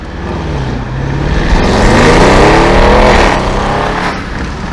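A tuned 850 hp Audi RS7 revs hard and climbs in pitch as it accelerates loudly up close, tyres losing traction, swelling in the middle then easing off.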